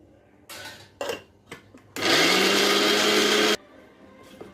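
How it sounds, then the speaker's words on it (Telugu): A kitchen mixer grinder whirs loudly and steadily for about a second and a half as it grinds drumstick leaves, starting abruptly and cutting off just as suddenly, with a few short clattering bumps before it. "మిక్సీ పట్టానండి."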